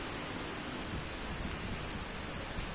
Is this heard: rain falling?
yes